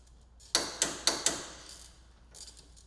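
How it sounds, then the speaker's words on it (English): Four quick metallic ratchet clicks from a wrench tightening an inner radius rod fastener on a Polaris RZR Turbo R, crisp and close in a quiet room, followed by a softer pair of clicks. "Then, torque the inner radius rod fastener to specification."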